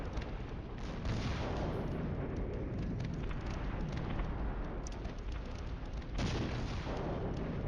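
Artillery guns firing on a Cold War battlefield in Flashpoint Campaigns, a dense rumbling barrage of repeated booms and blasts rolling together at moderate volume, with a few sharper reports standing out, and no voices.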